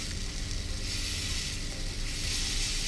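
Carrots stir-frying with oyster sauce, salt and stock powder in a pan, giving a steady close sizzle with faint scraping from stirring throughout, no talking.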